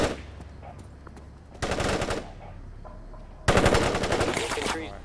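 Two loud bursts of rapid automatic machine-gun fire in the World in Conflict war game, a shorter volley followed by a longer one, separated by quieter battlefield ambience with faint voices.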